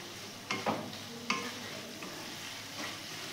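Soybean curry with kasuri methi stirred in a pan, a faint sizzle broken by a few scraping strokes of the spoon, quiet and close.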